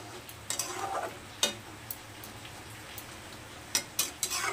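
A potol and mung dal dish with a splash of milk being stirred in a pan, giving soft scraping and a few sharp clinks of the spoon against the metal over a quiet low hum.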